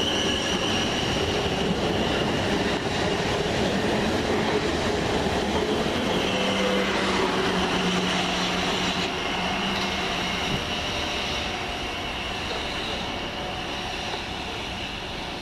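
A train from London Waterloo to Exeter St David's runs through Farnborough station. A continuous loud rumble of wheels on rails carries faint squeals and clicks throughout, with no talk.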